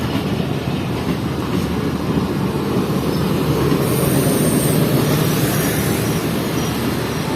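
The Khyber Mail, led by locomotive 6029, sits at a station platform. A loud, continuous rail rumble and wagon clatter fill the scene, with a faint high squeal partway through and no talking.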